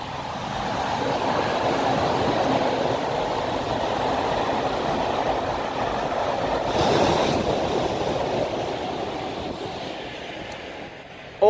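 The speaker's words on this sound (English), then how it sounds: "Train's massive." A train rumbles past at steady volume for several seconds, a broad continuous roar of wheels and cars with a slight swell midway.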